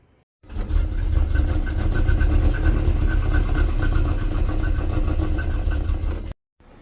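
A Volvo 240 engine runs steadily at idle with a deep, rough low rumble, starting abruptly and holding an even level for about six seconds before cutting off.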